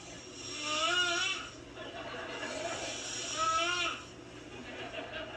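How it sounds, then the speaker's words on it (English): A man gives two long, rasping snores that rise and fall slowly, each drawn-out breath rattling with a wavering, nasal tone over a quiet background. "Daddy snoring"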